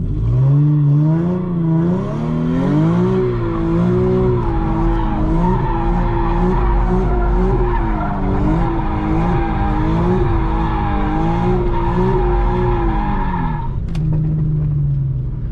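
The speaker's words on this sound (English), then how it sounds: "That's how you do donuts, going to the left and to the right." A car doing donuts: the engine roars steadily while tires squeal and skid continuously, the pitch swinging up and down as it circles, ending in a brief idle.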